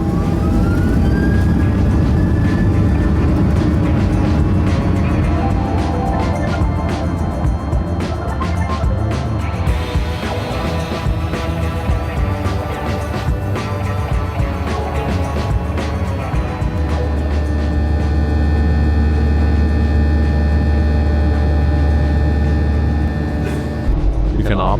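Jet airliner engines on an Alaska Airlines flight drone loudly and steadily from inside the cabin, shifting pitch as power changes and the climb levels off at 4,000 feet, with voices talking over the roar.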